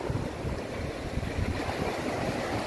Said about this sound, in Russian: И вот такое вот здесь море.